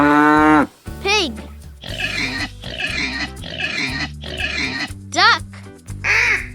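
A pig grunts and oinks in a rapid series of snorting, rough bursts close by, bracketed by short bits of speech at the start and end.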